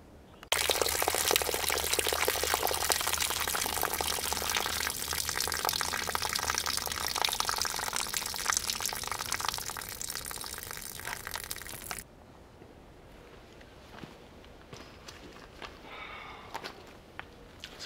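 Water from a garden hose gushes into and through a part from a 1975 Moto Guzzi motorcycle during rinsing, a loud continuous rushing splash that stops abruptly, leaving faint drips and quiet handling noises.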